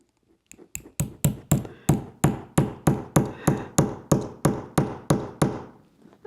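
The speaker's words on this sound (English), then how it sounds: "here I go hammering." A hammer strikes about fifteen times in a steady, even rhythm, each blow sharp and ringing, close by and loud with no talking.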